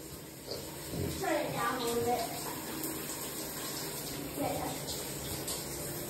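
Tap water running steadily into a tub while an American Bully puppy gets a bath, a continuous soft gush under voices and splashing.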